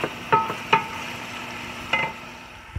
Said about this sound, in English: now I'm gonna add the bones of the lamb and I'm gonna mix them up.